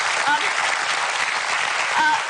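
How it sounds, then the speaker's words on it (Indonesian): Studio audience applause on a live television talk show, a continuous even burst of many people clapping, with a brief voice faintly under it near the start and end. "Boleh kasih tepuk tangan untuk Mas Apung tadi."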